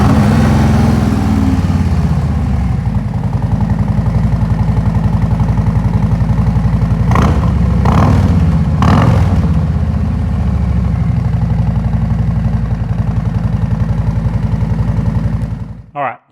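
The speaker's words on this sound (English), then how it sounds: "It has that deep, low rumble as you hear the bike cut off." A Harley motorcycle fitted with Khrome Werks 4.5-inch HP Plus Obsidian slip-on exhausts idles with a deep, loud, steady low rumble, blips the throttle a few times midway, then cuts off abruptly at the end.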